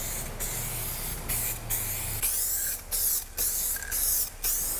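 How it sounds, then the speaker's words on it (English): Clear coat sprays from an aerosol can onto a car panel in several short, loud hissing bursts separated by brief pauses, close up with no talking. "This is three coats of clear."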